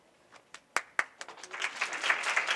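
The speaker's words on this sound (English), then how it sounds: "Don't clap yet, I haven't said anything." Scattered claps from a conference audience start with a few sharp, separate hands and swell into steady, fairly close applause over a couple of seconds.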